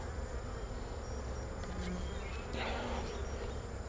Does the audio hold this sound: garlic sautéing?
no